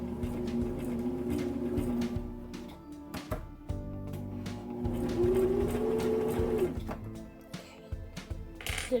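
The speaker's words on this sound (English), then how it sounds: "Did a couple back stitches because I think that's like good to do on the corners." Sewing machine running in short bursts while back-stitching the corners of a pillow, its motor hum rising and stopping with clicks and small metallic clinks between runs; close and alone, no voices.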